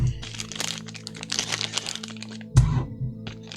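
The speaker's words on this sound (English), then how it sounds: "They come in little plastic bags" Small plastic bags of dice crinkle and crackle as they are handled and opened up close, with a busy rustling texture and a sudden sharper crunch partway through.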